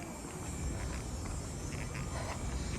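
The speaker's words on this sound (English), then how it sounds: "And the cicadas are still buzzing around." Cicadas buzzing in a Toronto neighbourhood at sunset, a faint, continuous shrill drone with a few pulsing swells, heard from a distance over outdoor ambience.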